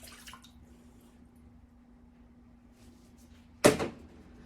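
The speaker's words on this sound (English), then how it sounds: "I already have my distilled water weighed out, so we're going to go ahead and get that right into the pan." Distilled water poured into a pan while making a leave-in hair conditioner, heard as one short loud splash near the end after a quiet stretch with a faint steady hum.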